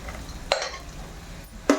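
Onions frying in a pan with a little sugar are stirred, a low sizzle punctuated by two sharp scraping clinks of the spoon against the pan, close and clear.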